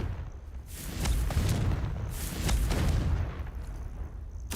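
Confringo blasting spell explosions in the Hogwarts Legacy video game, with heavy booming blasts rolling in waves under low rumble, loud and close.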